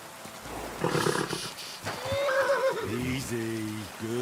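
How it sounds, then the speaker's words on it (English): A horse whinnies in Kingdom Come: Deliverance 2, a rising neigh followed by a series of pulsing, stuttering calls, close and fairly loud over faint background sound. "Easy, good horse."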